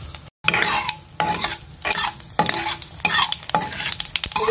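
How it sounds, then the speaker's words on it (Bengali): Black mustard seeds splutter and crackle in hot oil in a home kitchen pan while a spoon stirs them, giving repeated scraping strokes over a steady close sizzle, with no talking. "এই সর্ষেটা যখনই ফুটতে শুরু করবে মানে হয়ে গেছে"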